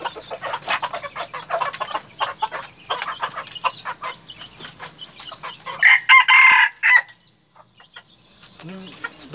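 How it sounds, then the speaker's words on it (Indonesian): Roosters crowing, a red junglefowl and a brugo chicken, each giving loud shrill cock-a-doodle-doo calls, with clucking and bird calls around them and a strong close crow near the end. "Kalau ayam hutan asli sama ayam burugo, dari kokoknya lebih melengking kalau ayam hutan ya."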